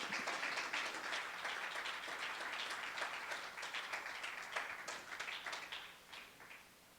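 A church congregation claps and applauds for Christ during a Spanish-English service, a dense, steady wash of many hands filling the room and tapering off toward the end.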